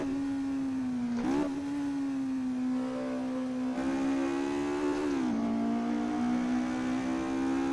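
Mark II Ford Escort engine in Assetto Corsa drones steadily at high revs, with a brief dip and shift around a gear change and slight pitch swells, loud and continuous with no talking.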